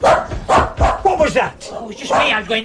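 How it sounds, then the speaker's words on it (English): Several quick, close dog barks and yips sound from near a hot dog stall, broken up by people talking over and between them. "That's a dog."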